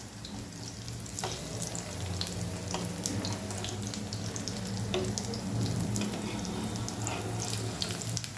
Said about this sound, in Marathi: कटलेट आपण शालो फ्राय करणार आहोत.